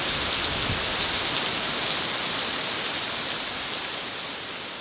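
Steady heavy rain hisses down on a surface in a dense, even wash of noise that fades slightly toward the end, with no voices.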